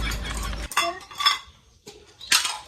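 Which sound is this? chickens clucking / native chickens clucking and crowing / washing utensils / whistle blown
washing utensils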